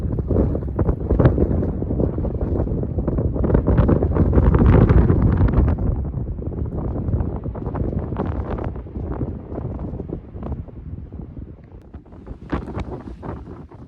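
Cold blustery wind on a sunrise morning in the Peak District, buffeting and roaring in gusts close to the microphone, loud for several seconds before easing to lighter intermittent bursts.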